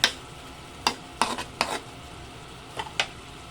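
Chicken feet being stirred in oyster sauce and brown sugar, a handful of separate utensil scrapes and clacks against the pan spaced irregularly over a quiet background, with no talk.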